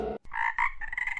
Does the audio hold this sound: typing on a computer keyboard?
no